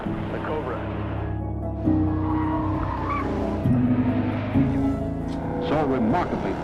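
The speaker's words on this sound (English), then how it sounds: "That's the sound of the quickest production sports car in the world today, the Cobra." A Shelby Cobra sports car is driven hard, its engine revving up and shifting through stepped pitch changes with tire squeal, loud and fairly close, while someone talks over much of it.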